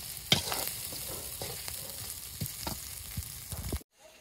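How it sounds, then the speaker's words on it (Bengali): Fish roe frying in a pan, with a soft continuous sizzle and a few stirring scrapes, close but fairly quiet. It cuts off abruptly near the end. "এই যে মাছের ডিম দিয়ে এখন নাড়াচাড়া করে নিচ্ছি"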